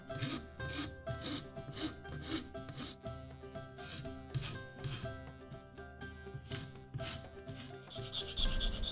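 Deer antler bow nocks being rasped down by hand, a steady run of scraping strokes repeating at a brisk rhythm, close and fairly loud over a humming background.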